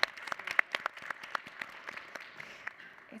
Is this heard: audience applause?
yes